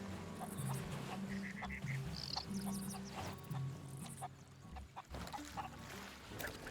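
Chickens cluck and squawk in short repeated bursts amid rumbling pirate-ship ambience in Sea of Thieves, fairly faint against the background.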